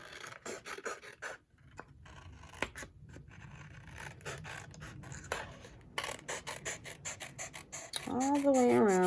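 Scissors snipping through cardstock to cut out a paper pillow box treat holder, a run of close, crisp rasping cuts with short pauses, some rustling of the paper, and a voice briefly heard near the end.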